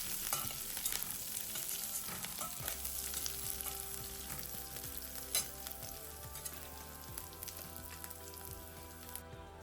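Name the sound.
green chillies and curry leaves sautéing in a pan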